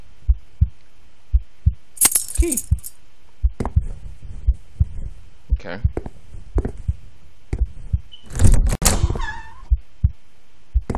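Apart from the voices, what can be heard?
heartbeat sound in a video game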